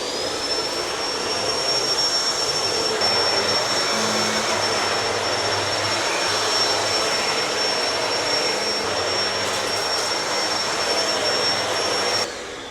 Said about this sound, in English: And today this is the vacuum I'm using. It's a Shark.